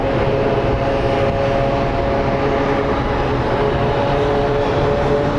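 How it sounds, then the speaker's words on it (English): An Ameriflight Embraer Brasilia turboprop comes in to land at Phoenix Sky Harbor, giving a loud, steady engine drone with a sustained propeller hum throughout, close by and without talk. "up next we have an Embraer Brasilia coming in from Hermosillo, operated by Ameriflight"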